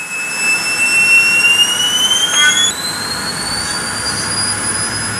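TEI-TS1400 turboshaft jet engine running on a test stand near 30,000 rpm, a loud constant roar topped by piercing high whines that climb steadily in pitch, without any voices.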